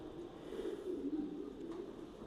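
Low, throaty cooing from pigeons in a racing pigeon loft, a soft continuous rolling coo close by with no voices.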